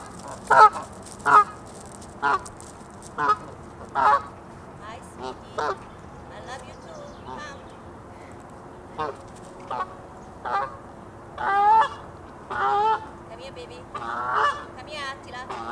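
Geese beckoned by a woman on a bike on Roosevelt Island in New York City honk and quack in repeated loud bursts, close by, with calm gaps between calls.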